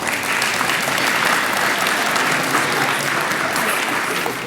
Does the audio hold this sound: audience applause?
yes